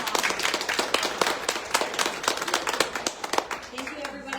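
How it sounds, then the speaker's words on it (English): Applause from a small audience after a marketing talk, with distinct individual claps in a loose rhythm that thin out and fade toward the end. "can we give Jim a round of applause"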